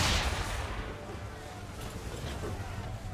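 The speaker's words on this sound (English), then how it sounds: "Fire swivel!" Ship swivel guns fire in a naval video game battle: a booming report opens, then a rumbling wash of sea and cannon noise follows, moderately loud without clear separate shots.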